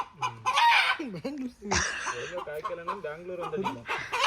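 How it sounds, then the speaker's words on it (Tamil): A chicken clucks and squawks in short bursts, mixed with nearby voices talking. "இந்த கோழி சும்மா இருக்க சொல்லுங்க தான்."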